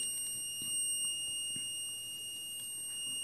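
A fire alarm repeater panel's buzzer keeps sounding in fire state, a constant thin high electronic tone held evenly at low level over faint room noise.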